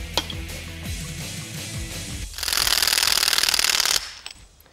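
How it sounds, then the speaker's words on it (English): Cross shaft being tapped into a CJ7 automatic transmission during a rebuild, a few sharp knocks at the start, then a rapid dense rattling burst for about a second and a half, near and fairly loud, with no talk. "Tap in the cross shaft."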